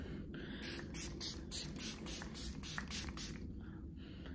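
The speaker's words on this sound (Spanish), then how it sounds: "Está refrescándome el rostro un poquito con este Setting Spray, que es para también refrescar." Rhythmic bursts of a setting spray misted onto the face, about ten quick pumps in a row, close and crisp over a low room hum.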